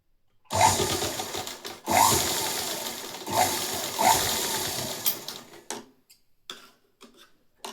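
A sewing machine stitches a hook strip along a garment edge in four short bursts of rapid mechanical whirring, close and fairly loud, each separated by a brief pause, then quieter ticks and clicks as it settles.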